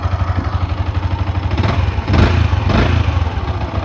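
A 2016 Suzuki X-Saber motorcycle engine idles close by with a steady throb, then revs up twice in quick swells before settling back to idle.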